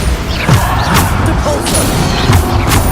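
Bombarda spell impacts in the Hogwarts Legacy video game, a few dull crashing thuds over busy game noise.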